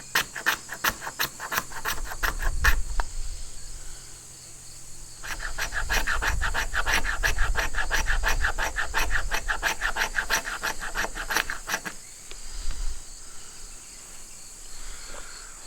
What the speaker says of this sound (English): to scrape shavings from the lighter housing with the spine of our knife and make a pile of plastic shavings